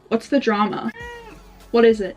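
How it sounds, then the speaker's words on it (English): A domestic cat lets out one drawn-out meow, close and clear, set between short bursts of a person talking to it. "That's my cat."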